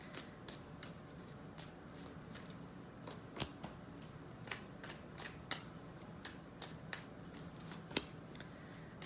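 Tarot cards being handled and shuffled at close range, a steady run of soft papery riffles and flicks with a few sharper snaps, alone without talk.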